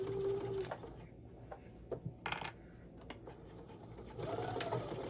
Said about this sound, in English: now we're going to take it to the machine. Sew the top, sew the bottom.